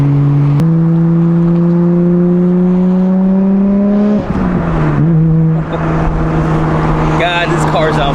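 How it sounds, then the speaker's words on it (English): A car's exhaust revs up in a long rising drone, drops sharply, then settles to a loud idle with more revving near a wall, close and loud. "God, this car sounds so good."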